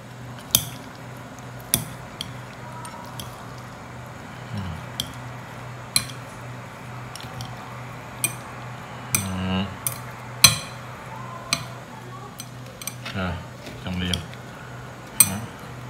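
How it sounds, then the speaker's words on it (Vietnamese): Plate of squid with ginger and chili stirred by hand, with soft squishy mixing and sharp clinks of a utensil against the dish at irregular intervals, close up, with a voice talking in between. "Mình sẽ trộn đều cái dĩa mực,"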